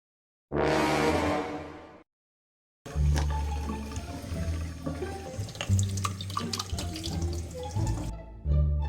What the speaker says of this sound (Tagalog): Naghuhugas po para di na kayo mapagod.